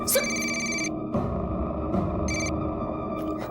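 A telephone rings in repeated electronic bursts with short gaps, fairly loud over a low steady background hum indoors.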